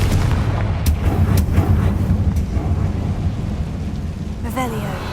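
A Confringo blast spell goes off in Hogwarts Legacy with booming, crackling bursts over a rumbling game background, followed near the end by a brief rising magical whoosh.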